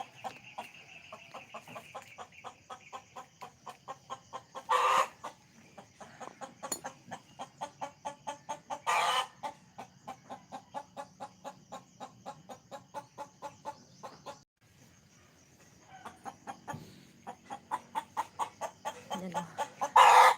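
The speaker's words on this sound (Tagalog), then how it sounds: "Manok." Chickens in a home garden cluck repeatedly in steady, close rhythmic bursts, with occasional louder calls and brief pauses, the hens' chatter continuing almost throughout.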